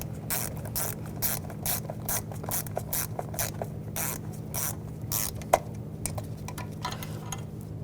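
Hand ratchet tightening intake manifold bolts on a 2011-2018 Volkswagen Jetta 2.0L TDI, a fast run of close, crisp clicks in short bursts with brief pauses, one sharper knock near the end, no talking.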